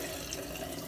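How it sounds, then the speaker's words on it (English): Running water from a tap pours steadily into a sink, a continuous broadband hiss with no breaks, fairly close and moderate in level, and no voices over it. "I need to turn the water on."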